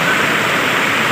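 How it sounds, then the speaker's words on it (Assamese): Rainwater pours down steadily at an outdoor picnic on a rainy day, a loud, close, unbroken rush of falling water. "ইয়াত পানী পৰি আছে"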